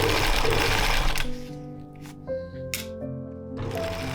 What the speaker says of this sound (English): and then sewn into place.